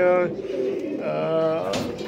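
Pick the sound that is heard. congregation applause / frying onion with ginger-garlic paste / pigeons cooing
pigeons cooing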